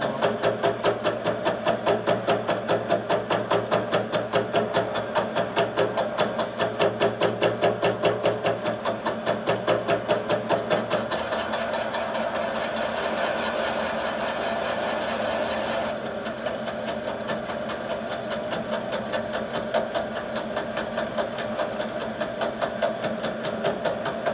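A 1988 Harley-Davidson FXR V-twin runs steadily with a bad rod knock, a close, loud, continuous rapid thumping idle that shifts to a slightly lower, rougher pattern partway through.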